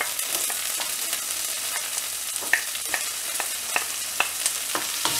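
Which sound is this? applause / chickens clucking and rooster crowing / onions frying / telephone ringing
onions frying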